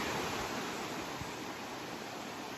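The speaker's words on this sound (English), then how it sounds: "So a nice little meandering waterfall going up into." A small meandering waterfall in a lush Taipei forest produces a steady, dense rushing hiss that stays constant and moderately close throughout.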